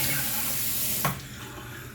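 Tap water runs into a sink to rinse a Merkur Futur safety razor, a steady splashing hiss with a brief change in flow about halfway through, close and fairly quiet.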